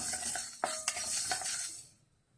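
Black pepper dry roasting in a pan over a medium flame without oil, heard as a few close metallic clinks of a spoon against the pan over a faint hiss, fading out at the end.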